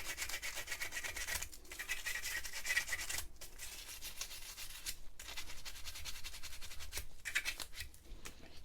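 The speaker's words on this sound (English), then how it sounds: "sandpaper." Sandpaper rubbing back and forth over the edges of lock pick wire to smooth them, a steady scratchy rasping in quick strokes with brief pauses, close but quiet.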